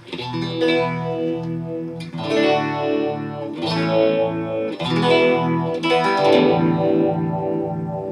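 Electric guitar through a Phase Royal phaser pedal with speed, depth and resonance turned up, giving a strong sweeping warble over sustained chords and arpeggios; loud and continuous with no talking.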